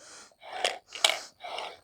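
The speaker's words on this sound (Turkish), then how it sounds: "zaten normalde de böyle nefes alıyoruz" Several quick, breathy gasps and inhalations, close and fairly soft with brief pauses between them, come from a person doing a breathing exercise while learning to use a Triflo lung-training device.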